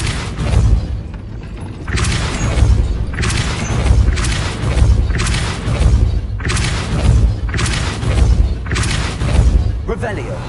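Repeated Repulsor spell blasts in a Harry Potter video game, a run of loud booming thumps about every second, each bursting wide and fading, over a steady low rumble.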